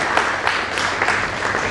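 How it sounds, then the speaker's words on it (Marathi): Applause from an audience at a Marathi award ceremony for a state-award-winning author, steady crowd clapping filling the short moment without talk. "त्यासाठी आपण त्यांना टाळ्या."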